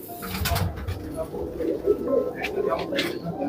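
Firozpuri pigeons coo in soft, low, rolling calls that repeat through the stretch, close by, with a voice talking over and between the coos.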